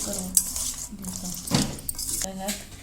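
A spoon stirring onion, cucumber, salt and sugar in a bowl, giving soft clinks and wet squishing scrapes at an irregular pace, close and fairly quiet.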